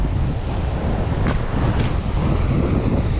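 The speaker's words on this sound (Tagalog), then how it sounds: "Pero lakas kasi ng hangin." Strong wind buffets the microphone at a rainy seaside fishing spot, a loud, continuous roar with rushing surf beneath it, steady throughout with no talking.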